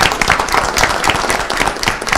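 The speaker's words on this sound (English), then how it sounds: "Can I get a round of applause for these wonderful people?" Audience applause for transit employees at a city council meeting, loud and close, with many individual claps forming a brisk, even patter that holds steady throughout.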